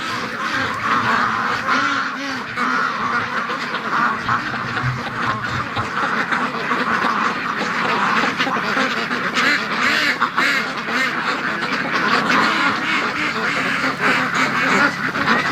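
A large flock of free-range ducks quacks continuously and loudly at a farm gate at feeding time, dense overlapping calls close by with no pauses.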